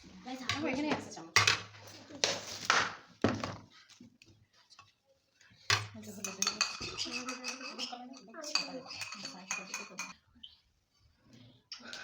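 A spoon clinks and scrapes against bowls and dishes while chocolate ganache of chocolate and whipped cream is mixed, sharp intermittent metallic clatters in bursts with pauses, with someone speaking between them.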